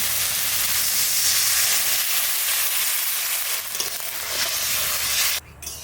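Water hits hot winter vegetables in a salted pan and sets off a loud, steady sizzle and hiss of steam that lasts several seconds, then cuts off abruptly near the end.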